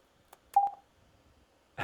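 A short percussive synth tone from SuperCollider, fed through Freeverb stereo reverb set to a very large room, sounds as a single quiet blip with a brief ringing tail, preceded by a faint click.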